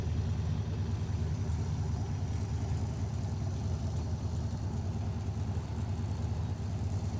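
Big-block 427 engine of a 1967 Chevy Corvette with tri-power and side-pipe exhaust idling, a steady low throaty rumble with an uneven loping beat throughout, close and unaccompanied by voices.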